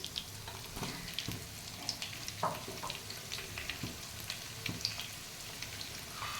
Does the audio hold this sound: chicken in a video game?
no